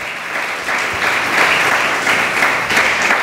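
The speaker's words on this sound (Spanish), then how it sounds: "Dele un aplauso al Señor por su palabra." A congregation at a church service breaks into applause, a dense, sustained wash of many hands clapping steadily and fairly loudly throughout, with no voices rising above it.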